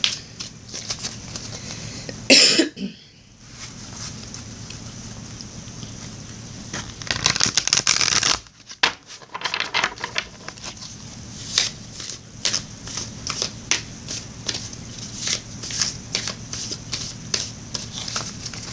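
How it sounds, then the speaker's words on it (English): A deck of tarot cards being shuffled and cut, close and quiet: soft riffling and flicking bursts, a couple of louder snaps, then steady light patter and tapping of cards. "Let me cut this deck for you, Gemini."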